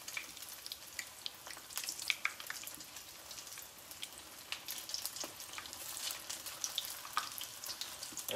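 Egg-battered chiles rellenos stuffed with tuna fry in very hot oil, giving a close, steady crackling sizzle with scattered sharp pops throughout.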